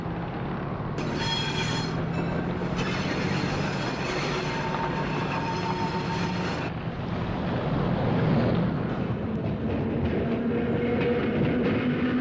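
A 1950s B-line train in Oakland rumbles steadily past at close range, with a broad roar and wind buffeting throughout.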